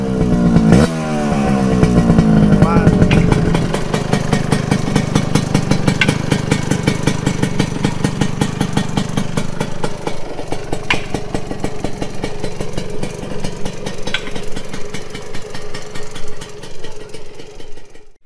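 A Yamaha RS 100 motorcycle fitted with an MV Racing exhaust pipe and a Thai-style setup idles close by, blipped with a few throttle revs early on, then settles into a steady, throaty, popping idle that runs on its own throughout.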